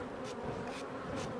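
Honey bees buzzing inside a beehive, a low continuous hum with a dense, droning texture that stays steady throughout, heard alone and fairly soft.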